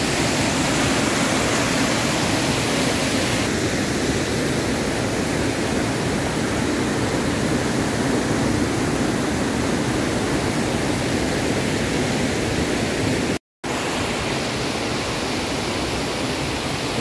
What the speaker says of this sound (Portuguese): Essa bela cachoeira.